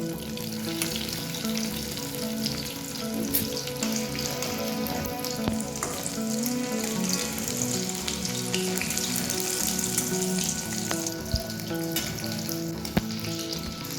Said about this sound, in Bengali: দ্বিতীয় ব্যাচের মাছগুলোও সব ভাজা হয়ে গেছে, এগুলোকে আমি তুলে নিচ্ছি।